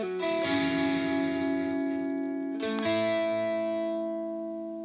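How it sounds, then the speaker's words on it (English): Clean-toned lead electric guitar playing a lead part: a few sustained, ringing notes with a fresh picked attack near the middle, then fading out, played alone and clearly. "For the lead guitar, it's going to start with a clean tone doing this."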